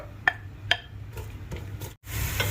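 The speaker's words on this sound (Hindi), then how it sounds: "सबसे पहले इसमें शामिल करूँगा प्याज को मैं अच्छी तरह ब्राउन करके इस ऑयल से निकाल लूँगा।" Onions fry in hot oil in a pot with a soft, steady sizzle, punctuated by a couple of sharp utensil clinks and faint stirring scrapes.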